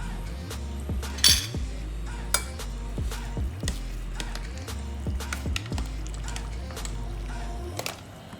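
A pot of tom yum soup with sliced tomatoes is stirred, with rhythmic scraping strokes and metallic clinks of a spoon against the pot, plus one bright clatter early on, close and steady.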